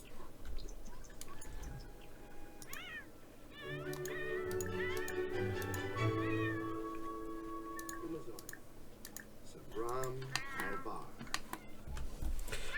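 A cat in The Sims 4 gives a series of short meows and chirpy trills, moderately loud, mixed in with soft ticking, game ambience and a person talking over it.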